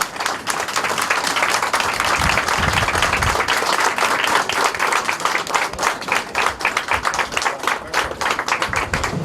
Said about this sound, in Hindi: सब लोग खड़े होकर के जोरदार तालियों से उनका सम्मान